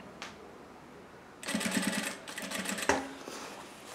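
Sewing machine making a short burst of rapid stitching at the end of a seam on a fabric paper-towel holder, close and moderately loud, ending with a sharp click.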